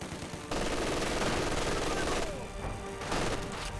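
Rapid rattling machine-gun and rifle fire from infantry in a Company of Heroes 2 battle, dense overlapping bursts starting after a half-second lull and surging in waves, loud and close.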